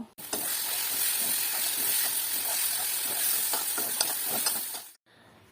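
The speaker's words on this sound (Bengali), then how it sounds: "তাতে দিয়ে দেব আগে থেকে ভেজে রাখা আলু এবং ভালোভাবে কষিয়ে নেব।" Pre-fried potatoes tossed in a hot oily pan for an egg dish give a loud, steady sizzle with scraping stirs, close and continuous for about five seconds before cutting off abruptly.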